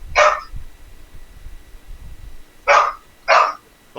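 A dog barks three times, one sharp bark at the start and then two more close together near the end, fairly loud and close over a quiet, low background rumble.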